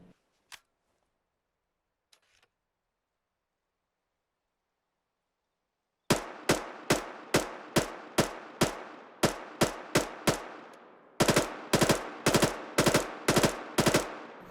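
Rapid bursts of machine-gun fire from a bipod-mounted weapon in the game Arma 3, starting after a few seconds of near silence with one isolated shot, then a steady string of loud, sharp shots that tightens into faster clustered volleys.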